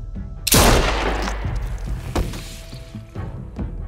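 A burst of gunfire in The Walking Dead: A New Frontier: a loud, sharp blast opens a rapid volley of shots with booming tails, then a few further scattered shots ring out, all close and forceful.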